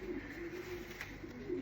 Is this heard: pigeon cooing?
yes